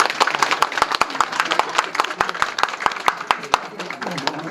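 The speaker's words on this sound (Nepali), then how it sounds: "एकचोटि ताली लाग्नु" Guests at an engagement ceremony clap together in a quick, fairly even rhythm of sharp hand claps, moderately close, with talking mixed in underneath.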